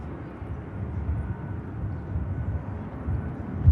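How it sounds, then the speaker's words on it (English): A Ryanair jet on the runway at Manchester Airport, a low, steady engine rumble heard from a distance that swells slightly toward the end. "And the Ryanair using it for a bit of runway"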